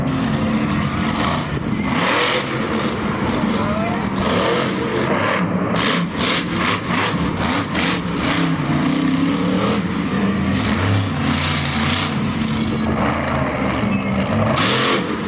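Monster truck engine at a Monster Jam show in Orlando, revving loudly in bursts and sustained roars as the truck runs over cars, with arena crowd noise underneath throughout.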